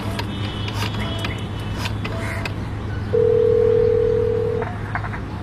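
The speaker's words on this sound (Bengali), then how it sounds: "একটা পাবলিক টেলিফোন বুথ থেকে ফোন করলেন বাড়িতে।" A public telephone booth on Diamond Harbour Road in a radio drama: a run of short dialing beeps and clicks over a low steady hum, then a single sustained tone lasting over a second, close and without speech.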